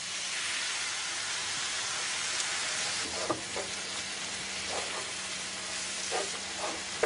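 Cream goes into duxelles cooking in a pan, giving a steady close sizzle and hiss with a few soft stirring scrapes and clicks toward the end.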